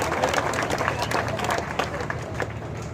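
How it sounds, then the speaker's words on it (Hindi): Large crowd at a BJP political rally in Pali clapping and cheering to welcome guests, a dense, steady roar of applause with scattered shouts that fills the whole stretch. "हमारे आए हुए सभी मेहमानों का जोरदार ताली बजा करके एक बार स्वागत करिए"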